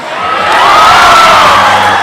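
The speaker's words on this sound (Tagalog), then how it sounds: "Sabay-sabay po natin bigkasin, sigawan, Miss Marian Rivera" Loud crowd at a gay boxing parade event cheering and shouting together in a swelling roar, with a high voice rising above the din, over about two seconds.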